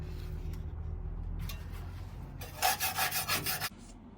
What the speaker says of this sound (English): I've scraped down some bits of the inside here, just with the scraper and a bit of chisel